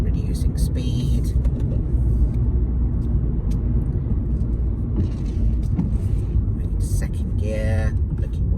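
A car driving along Vauxhall Way in Luton toward a roundabout, a steady low engine and road rumble from inside the cabin throughout, with a voice talking over it.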